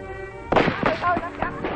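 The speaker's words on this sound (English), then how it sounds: "a chance to fire their rifles and carbines is a big occasion for these young villagers and farmers" Rifles and carbines fired by young villagers and farmers at target practice in Vietnam: a sudden sharp report followed by a quick run of close, overlapping shots and pops with crackling echo.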